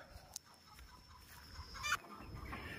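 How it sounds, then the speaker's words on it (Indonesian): Young breeding hens cluck softly in a coop in the background of a quiet, noisy space, with a few scattered louder squawks and no talking. "ini adalah ayam calon indukan"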